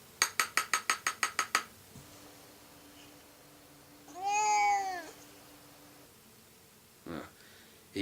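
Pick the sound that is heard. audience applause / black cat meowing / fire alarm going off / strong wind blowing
black cat meowing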